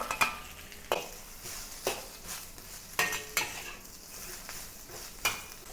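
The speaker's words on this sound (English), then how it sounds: "to saute the chopped garlic. And when it turns aromatic, add the roast pork." Roast pork tossed with chopped garlic in hot oil in a wok: steady sizzling under repeated sharp scrapes and clanks of a utensil on the metal, coming every second or so, close and fairly loud.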